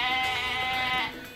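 Goats bleating close by at a farm or petting attraction in Taebaek, Korea, a loud sustained wavering cry that fades toward the end.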